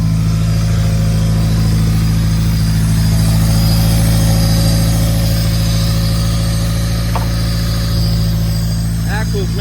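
A built Honda Civic D16Y8 engine in an EG Civic runs at a slightly high idle, a loud, steady close-up drone with a constant low hum and faint intermittent clicks.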